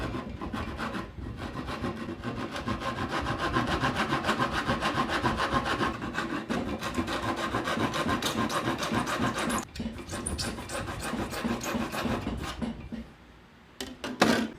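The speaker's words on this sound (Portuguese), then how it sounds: "vou serrar esse agora." Hand saw cutting wood held in a vise for a dovetail joint, steady rasping back-and-forth strokes, close and continuous, with a brief pause near the end.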